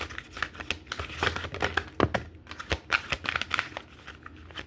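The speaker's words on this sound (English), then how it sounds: "my fingers won't get right with shuffling these cards" An angel oracle deck being shuffled by hand, giving soft, irregular papery riffles and crinkles close by, faint and without speech.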